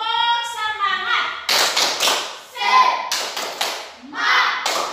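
Classroom children performing a rhythmic clap chant, bursts of unison claps alternating with group chanted words in a patterned call-and-response beat.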